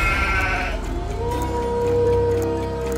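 Sheep bleat in a wavering, sustained way over a dense, continuous background, moderately loud and close.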